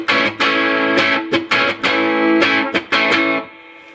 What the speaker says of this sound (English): we're just going to play some A bar chord there with some strums.